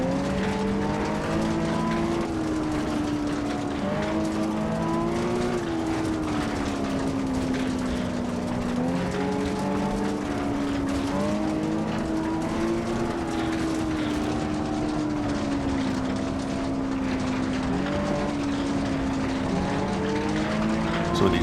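A rally car in a racing video game on a Finnish gravel stage: a steady, loud engine drone that rises and falls in pitch through gear changes and throttle lifts, continuous throughout with no talk.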